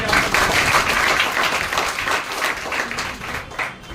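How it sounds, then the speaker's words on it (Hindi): Applause from an audience at a direct selling session, loud and continuous clapping from a crowded room that holds steady, then eases a little near the end. "जोरदार ताली अपने।"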